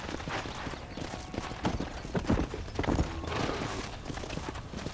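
Horse hooves clip-clop steadily through the Red Dead Redemption video game, a busy rhythmic clatter over a constant background of other game sound.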